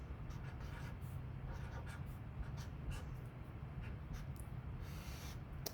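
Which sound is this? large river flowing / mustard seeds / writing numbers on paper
writing numbers on paper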